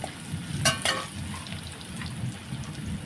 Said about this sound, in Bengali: রসুন দিয়ে একটু ভেজে নেব